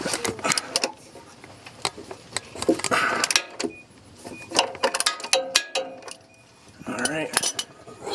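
Wrench loosening the oil drain plug on a 2013 Ford F150 with the 5.0 engine, heard as close metallic clicks, taps and clinks scattered irregularly, with light background noise and no speech.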